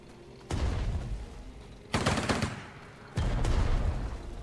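Volleys of gunfire from units in Strategic Mind: Blitzkrieg crash out in three loud, dense bursts spaced a second or so apart, each a clatter of overlapping shots that rings on briefly.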